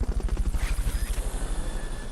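Fulton Recovery helicopter in Metal Gear Solid: Peace Walker thumps with fast, steady rotor pulses, loud and close, fading slightly toward the end.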